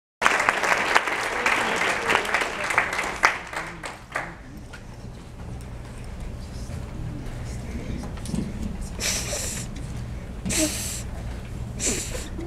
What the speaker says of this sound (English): And here's your next round of applause for your next comic is Bradley Eversole.